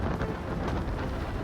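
Rain driven by strong winds as Typhoon Matmo reaches the coast of southern China, a dense, continuous roar of rainfall and gusts with no voices.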